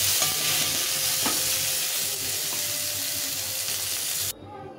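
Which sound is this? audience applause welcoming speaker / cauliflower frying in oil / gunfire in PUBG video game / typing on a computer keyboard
cauliflower frying in oil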